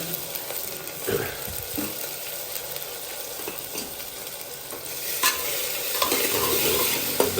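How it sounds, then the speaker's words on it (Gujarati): Spinach, fenugreek and fresh coriander are stirred together in a pan with a steady scraping, shuffling rhythm and a soft sizzle underneath, close and continuous throughout. "બધાને મસ્ત મિક્સ કરી દે."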